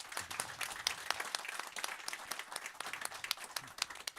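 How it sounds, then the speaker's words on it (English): Audience applauding panelists and speakers after a conference session on innovation in crisis, a steady wash of many hands clapping throughout, fairly even in loudness with no talk over it. "a great round of applause for our panelists and our speakers"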